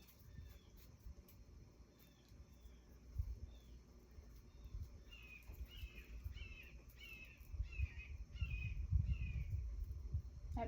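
A bird repeats a run of harsh, crow-like caws, about seven calls in a steady rhythm over low rumbling handling noise, moderately close.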